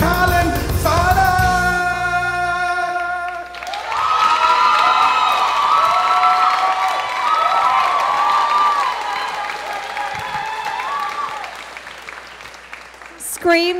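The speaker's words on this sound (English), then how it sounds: "Screams from the ladies in the audience here at Digicel Rising Stars." Women in the audience at Digicel Rising Stars, a live televised Trinidad and Tobago singing competition, scream and cheer in a loud sustained crowd roar with high shrieks, following the end of a sung note.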